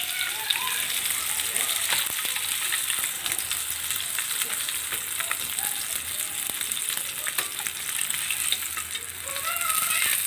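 Food sizzling steadily in a frying pan at home, a dense crackling hiss running throughout, close and moderately loud with a faint voice at moments.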